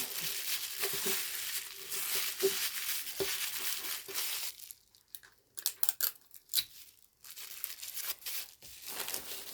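A painted rock being wrapped for packaging, with close crinkling, tearing and rustling of wrapping material, steady at first and then in short separate bursts.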